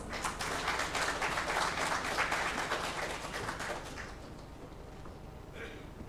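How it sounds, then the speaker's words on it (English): Audience applause rises at an investors' meet in Imphal, steady clapping from a crowd for about four seconds that then dies away to room quiet. "Let's welcome him with a big round of applause."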